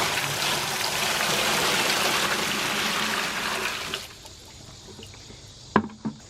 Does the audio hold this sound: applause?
no